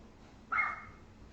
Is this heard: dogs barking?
yes